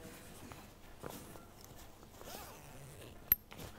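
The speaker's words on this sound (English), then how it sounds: "Simply undo the zip, as I've just done." A zip is drawn open on a Berghaus Jalan 55+10 women's rucksack, a quiet, close rasp with soft handling noises and a sharp click near the end.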